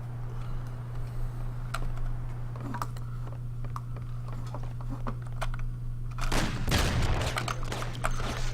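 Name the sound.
gunfire from an enemy shooting, Mafia video game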